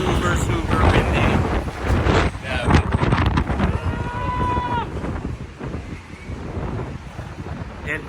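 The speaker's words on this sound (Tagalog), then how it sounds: "Super windy." Strong wind gusts buffet the microphone on a Dubai street, a steady low roar throughout with a brief whistle-like tone in the middle; people talk over it.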